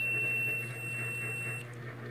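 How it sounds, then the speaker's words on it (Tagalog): A continuity tester's buzzer sounds one steady high electronic tone for about a second and a half, then cuts off, leaving faint background hum. "Naka buzzer mode po yung tester natin."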